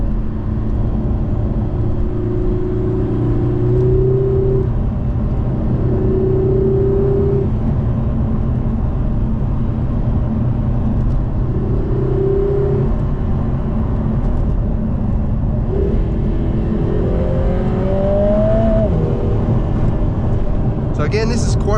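A 2024 Lotus Emira with a 2.0-litre turbocharged rear mid-mounted engine accelerates hard on a bumpy road, engine tone rising and falling through repeated gear changes, loud and steady inside the cabin.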